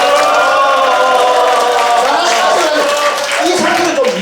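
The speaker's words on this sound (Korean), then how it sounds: "박수를 치면서 함성을 한번 지어보시기 바랍니다" An audience at a Busan commemorative ceremony and lecture clapping and cheering together, a loud, dense roar of applause and shouting voices that holds steady throughout.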